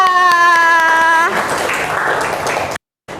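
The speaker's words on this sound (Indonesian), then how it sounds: "Beri tepuk tangan untuk kelompok 2." Students in a classroom clap for a presenting group during a physics lesson held over Zoom, the applause following a sustained tone and cutting off abruptly into silence before resuming briefly.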